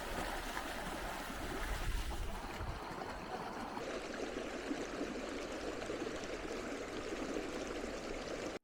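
A flowing mountain river in Yumthang Valley, North Sikkim, rushes steadily with a broad, even wash of water that stays constant throughout, with no voices present.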